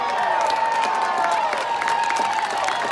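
Baseball crowd at a Fresno Grizzlies versus San Jose Giants game cheering and applauding steadily, a dense, continuous wash of clapping and voices from a stadium full of fans with a sustained whistle or shout running through it.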